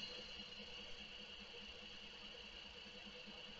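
A wood lathe turns a fiddleback maple salad bowl at a slowed speed near 900 RPM, giving a steady, quiet mechanical hum with a faint regular pulse and a constant high whine, with no voices.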